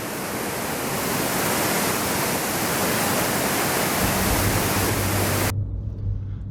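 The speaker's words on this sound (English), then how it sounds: "It's a smaller waterfall. Nonetheless, very beautiful to see." A small waterfall at Twin Falls on Maui, running fast after heavy rain, gives a dense, loud, unbroken rush of falling water close by that cuts off abruptly near the end, leaving a low hum.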